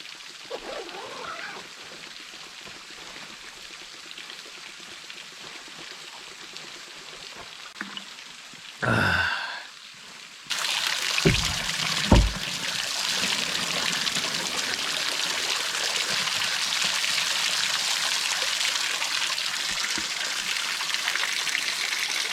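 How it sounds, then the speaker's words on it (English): Spring-fed stream water flows steadily along a backpacking trail at Savage Gulf, a continuous soft gurgling trickle that swells louder and fuller partway through, with a few brief bumps and rustles near the middle. "you can hear that water flowing good"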